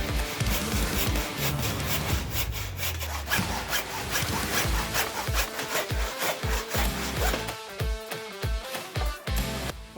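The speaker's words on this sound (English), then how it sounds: "so I'll use the handsaw." A handsaw cuts through wood for a light-up Christmas star decoration, producing continuous rhythmic rasping strokes that speed up into short, quick back-and-forth pulls toward the end, loud and close with no talking.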